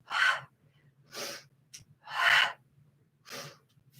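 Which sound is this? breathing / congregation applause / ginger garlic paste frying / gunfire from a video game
breathing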